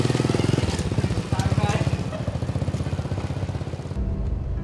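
Motorcycle ridden along a road in Indonesia, its engine a steady, close, rhythmic putter with a continuous rumble that shifts slightly near the end, with no voices over it.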